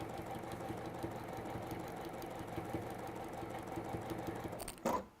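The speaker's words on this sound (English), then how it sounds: "So I am just gonna top stitch down." A sewing machine running a line of top stitching, a steady close mechanical whirr with fast needle ticks, ending in a brief clunk, with no talk.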